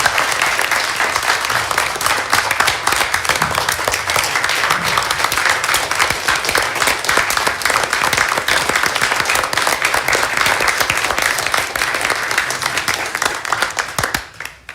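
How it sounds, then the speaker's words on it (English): Audience at a university Board of Visitors committee meeting applauding, a dense, even burst of many hands clapping, fairly loud and sustained, then fading out at the very end. "And I think that deserves a round of applause."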